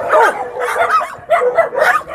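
Several dogs at a rescue shelter yelp and bark in quick, high-pitched bursts, close by and overlapping, with a whimpering, puppy-like quality.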